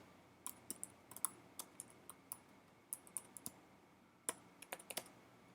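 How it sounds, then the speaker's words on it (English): Someone types on a computer keyboard, sparse and irregular keystrokes clicking close and quiet against a silent room, with short pauses between bursts of taps. "typing is not my forte"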